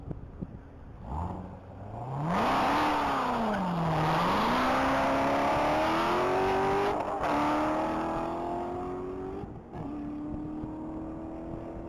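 A blue 2016 Corvette Z06 on a standing-mile top-speed run at the Texas Mile, its loud engine roaring and climbing in pitch through the gears, dipping once at a shift before pulling hard and steady.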